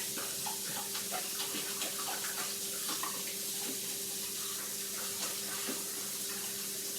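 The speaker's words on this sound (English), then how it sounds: "Just want to wash this out the best that I can." Tap water runs steadily into a sink while a mixing bowl is rinsed out during cookie baking, a close, continuous splashing hiss with occasional clinks, no talking.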